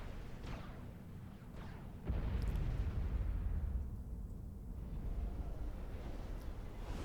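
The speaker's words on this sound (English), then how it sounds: "Long-range artillery stations." Long-range artillery stations firing in Supreme Commander 2, heard as a distant muffled boom around the middle followed by a low rumbling roll of battle noise, quiet and without talk.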